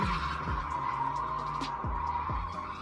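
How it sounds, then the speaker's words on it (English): Supercharged truck sliding sideways around a pole in a parking lot, tires squealing and engine revving close by, with a steady high supercharger whine running through the slide. "You can hear the supercharger."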